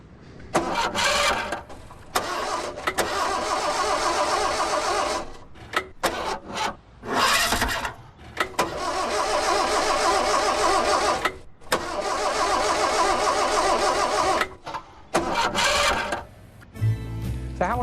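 An Austin Leyland Princess engine is cranked again and again, several long grinding starter bursts separated by short pauses, loud and close, with a brief knock of the engine turning over near the end.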